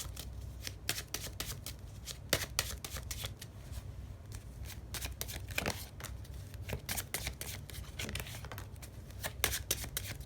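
Tarot cards shuffled by hand for a clarifying draw during a Thai love-horoscope reading, a steady stream of soft riffling and slapping card sounds, close and continuous, over a low background hum.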